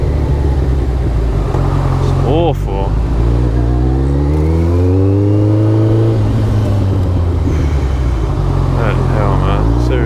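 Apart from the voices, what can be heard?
road traffic, cars passing a motorcycle rider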